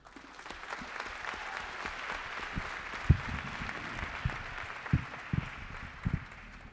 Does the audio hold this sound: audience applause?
yes